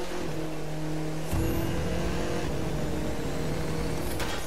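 Car drifting in The Crew 2 racing video game, a steady engine drone with a sharp shift about a third of the way in, then continuing loud and strained with a hint of tire noise; no talking.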